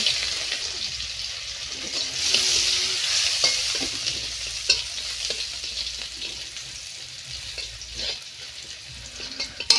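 Garlic sizzles in a wok while a utensil stirs and scrapes through it, a steady close hiss with scattered clicks and knocks from the stirring, no voices.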